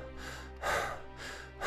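Deep breaths in and out, close and fairly quiet, with airy rushes that swell and fade in a slow, steady rhythm.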